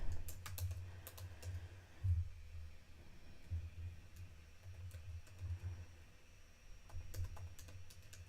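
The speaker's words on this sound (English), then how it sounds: "we're going to type in Jalen Williams stats" Fingers type on a computer keyboard in close, soft, irregular clusters of key taps with brief pauses, over a faint low background hum and no speech.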